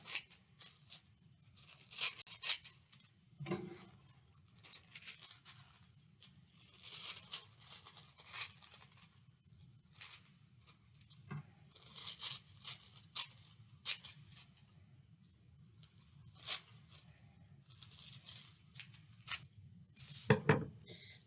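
Scissors cutting and tearing tissue paper into craft shapes, irregular bursts of crisp crinkly snips and rustles spaced through a quiet room, close and fairly soft.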